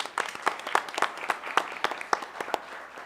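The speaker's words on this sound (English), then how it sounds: "let's give him a round of applause" Audience applause at a county commission meeting: a small group clapping nearby in a quick, uneven rhythm of distinct claps, with no talking over it.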